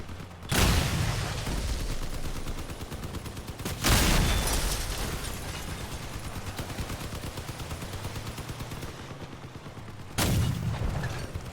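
Cannon fire and gunfire in the vehicle combat game Crossout, with three heavy booming blasts at the start, near 4 s and near 10 s, over a continuous dense rattle of battle noise, loud and close.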